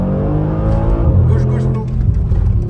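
A car accelerating hard from 70 to 150 km/h, a new car sent to Brabus, its engine droning loud and steady throughout with a rising tone under occupants' voices.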